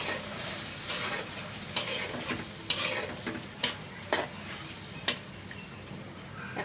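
Taro stems go into a pan of frying spice paste with hilsa fish scraps and bones, giving a soft continuous sizzle broken by about half a dozen sharp metallic clicks and scrapes of a spoon stirring against the pan.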